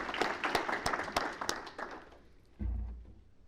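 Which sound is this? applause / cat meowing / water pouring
applause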